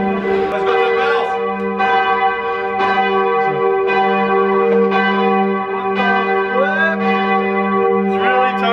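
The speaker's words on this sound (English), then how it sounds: "You hear the bells getting louder." Bells of Cologne Cathedral ring loudly from close by inside the tower, struck tones repeating roughly every second over a dense, sustained humming resonance.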